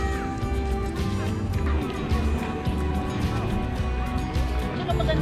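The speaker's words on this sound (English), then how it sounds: "Oh, birds." Waterfowl, ducks or geese, call at a sunny sandy lake beach at Sylvan Lake, their repeated cries carrying over a busy background with people talking nearby.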